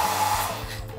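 A hair dryer blows steadily in a business hotel room, a close, continuous airy whoosh with a low motor hum for about a second, somewhat weak in force.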